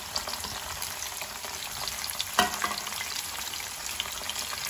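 Green chillies sizzle and fry steadily in hot oil in a pan while a dry prawn curry is cooked, a close, continuous crackle with a brief louder burst midway and no talk.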